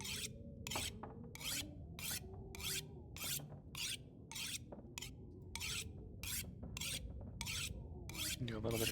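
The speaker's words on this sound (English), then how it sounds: "Do a little bit of sharpening instead of sleeping for an hour" A tool being sharpened in The Long Dark, a steady run of about fifteen evenly spaced rasping strokes across a whetstone, crisp and close with no talking.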